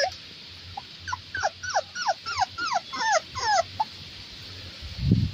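Puppies give a rapid string of about a dozen short, high yelping whimpers in a tight rhythm, fairly faint against a quiet room, followed by a soft bump.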